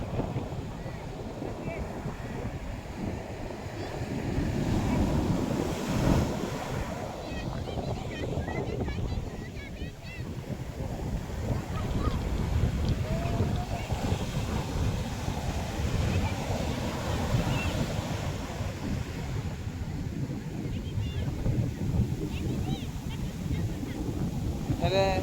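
Sea waves wash over the shore around a standing person in a continuous rushing surge, swelling and receding with heavy wind buffeting the microphone, while people talk nearby.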